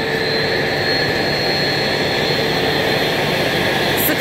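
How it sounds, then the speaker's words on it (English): An EPE foam sheet extruder machine running, a steady loud mechanical drone with constant whine tones, unchanging throughout with no breaks. "The extruder, first part for heating, second part for heating and cooling."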